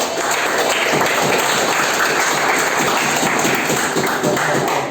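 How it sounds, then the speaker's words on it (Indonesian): A classroom of students applauds together, a loud, even patter of many hands clapping without pause for about five seconds. "Ya, betul sekali, tepuk tangan."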